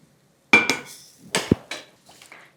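A metal spoon knocking and scraping against a pot while stirring hot masala into a sprouted moth bean curry cooked in turmeric water, a few sharp clanks separated by quiet gaps.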